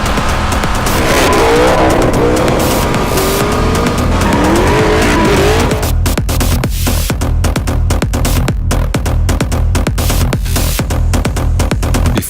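A Dodge Viper sports car drives hard through corners with loud engine roar and tire squeal, then a rapid series of sharp rhythmic thumps dominates the second half.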